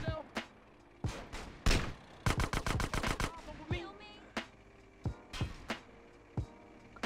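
Rapid bursts of gunfire in GTA San Andreas, single sharp shots and quick automatic volleys, loud and close, with a few voices in between.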